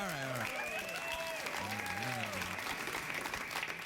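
A television studio audience at a late-night talk show bursts into sustained applause with a dense wash of clapping, while voices talk over the clapping in the first half.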